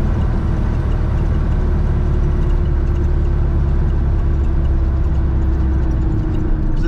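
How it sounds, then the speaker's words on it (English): A 1970 Volkswagen Karmann Ghia with its engine at the rear rumbles steadily from inside the car while driving, a loud continuous low drone joined by road noise and holding level throughout, with no talk. "Engine is behind us. We can hear that as well. There's a nice rumble to it."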